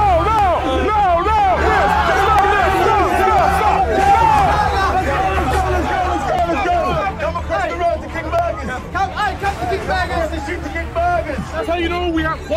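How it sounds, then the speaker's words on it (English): Crowd of people chattering outside, a loud dense babble of many overlapping voices with occasional shouts, thinning slightly toward the end. "Oh, we got a crowd."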